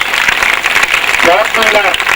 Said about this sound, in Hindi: एक बार जोरदार तालियां आप विद्यार्थियों के लिए बजाएंगे।